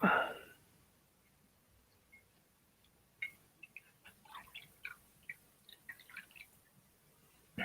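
Water drips and small splashes while paint brushes are washed out, a scattered, irregular series of faint, close ticks and plinks in a quiet room.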